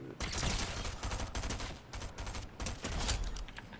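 Dense, rapid gunfire from a Fortnite Trios match crackles in continuous, overlapping bursts, loud and close with only brief gaps between volleys.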